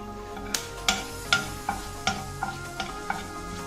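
Two pieces of cinnamon dropped into hot coconut oil in a pan, sizzling steadily with a series of sharp, evenly spaced pops and spatters close by, no voices.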